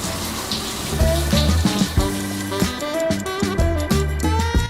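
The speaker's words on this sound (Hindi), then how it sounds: "मुझे इसे बार बार दबाना पड़ रहा है ताकि उन्हें ये ना लगे कि मैं पानी वेस्ट कर रहा हूँ।" Water sprays steadily from an airplane shower in a first-class cabin, a loud close hiss under a drifting, busy background of tones.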